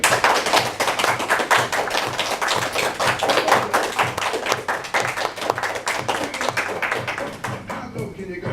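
Hands clapping in a steady, fast rhythm from a crowd at a live performance, loud and close, continuing for several seconds before fading slightly at the end.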